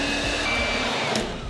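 A hotel-room vacuum cleaner, a Hoover, drones steadily with a broad whooshing motor roar, loud and close, filling the whole moment without talk.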